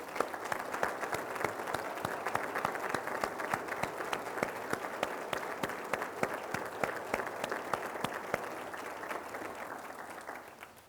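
Audience at a county state-of-the-county event applauding military veterans and their supporters, a sustained wash of many hands with distinct nearby claps, steady for about ten seconds before tapering off at the end.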